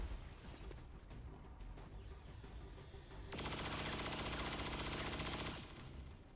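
Video game gunfire, with scattered shots early and then a dense, loud burst of rapid automatic fire in the second half that cuts off near the end.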